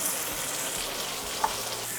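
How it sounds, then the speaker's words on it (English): Wild salmon fillet frying skin-side in a pan while being basted with brown butter, a steady close sizzle with a brief spattering pop partway through, no talking. "Basting it with the brown butter."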